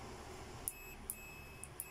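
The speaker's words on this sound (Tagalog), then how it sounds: "Buzzer lang tayo, buzzer. Kung may grounded ba ito." A multimeter on continuity setting gives short sharp beeps while testing parts of a microwave oven that won't heat, four quick chirps spaced unevenly over a faint background hum.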